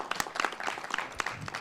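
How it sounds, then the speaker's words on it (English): Applause from staff gathered at a fiscal year 2026 budget retreat, a short burst of scattered, uneven clapping from a modest group in a meeting room, fairly quiet and somewhat distant. "Big round of applause to all"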